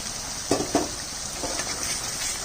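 Water poured onto frying masala in a pan hisses into a steady sizzle, with a couple of sharper bursts early on before settling into continuous close frying.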